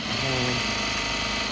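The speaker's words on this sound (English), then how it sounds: "So what I'm doing right now, I'm just adding a little top stitch to set the facing right." Sewing machine running steadily while top stitching a facing on a one-lip welt pocket, a continuous close mechanical whir with no pauses.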